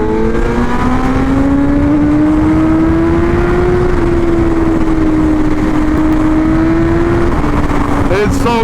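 A BMW M1000RR sport motorcycle accelerates hard along a highway, its engine note climbing steadily and holding a loud, continuous high-revving drone close by, with wind roar and a brief rise near the end.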